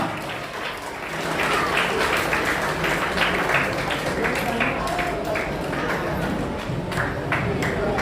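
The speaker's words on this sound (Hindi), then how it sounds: "जोरदार तालियां।" An audience at a chess tournament prize giving in Satna applauds for a winner, a broad, sustained wash of clapping that swells after the first second and carries on steadily, with voices mixed in.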